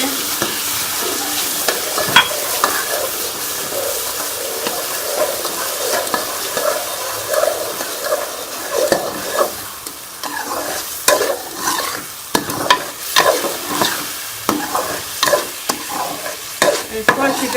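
Suji milk halwa with sugar being stirred in a pan, a spoon scraping and sloshing through the thick mixture in irregular strokes, with a soft sizzle underneath and no talking.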